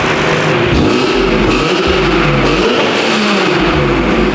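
A loud race car engine, a BMW E46 M3 with a blown-out muffler, roars and revs cold up close, its pitch rising and falling in rough, throaty surges.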